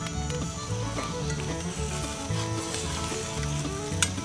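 Eggs sizzling in a pan over an outdoor campfire beside corned beef hash, a loud continuous crackle with rhythmic stirring scrapes throughout and a sharp knock near the end.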